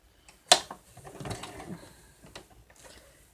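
A sewing machine stitches the stuffed bear's head pieces together: a sharp mechanical click, then a short, faint whirring run of the mechanism. No one speaks.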